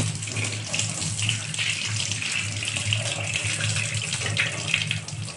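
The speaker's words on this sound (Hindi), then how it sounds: "इसको आपको साफ पानी से धोकर दिखाती हूँ अभी।" Steady rush of tap water runs over a gas stove burner as it is rinsed clean, a continuous broadband splash and flow with a low hum underneath, close and fairly loud throughout.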